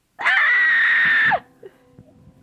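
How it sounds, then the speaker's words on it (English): A single loud, sustained scream, sharp and piercing, lasting about a second before breaking off abruptly, followed by faint scattered noises. "Speaking of scared, that scream."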